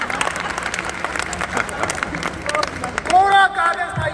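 Audience applause at a live Hindi stand-up comedy show, steady scattered clapping from a crowd with background murmur, with a performer's voice briefly rising over it near the end.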